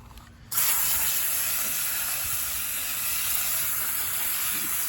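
A water spray suddenly starts and hisses steadily as a hose washes down a rock garden during a deep clean, a loud, close, continuous rushing spray with no talking.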